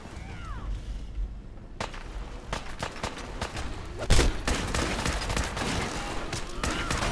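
Rapid gunfire in a Fallout 4 combat scene, a dense burst of loud cracking shots and heavy impacts that keeps going after a short lull, with no voices over it.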